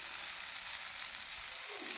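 Puffed rice with cashews and raisins fries on a low gas flame for a sweet Assamese jolpan snack, giving a soft, steady hissing sizzle with no voices.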